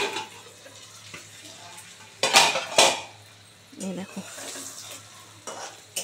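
Food fries in a covered pan. The lid comes off with two sharp metallic clatters, and a soft sizzle and a brief scrape follow. A voice speaks briefly.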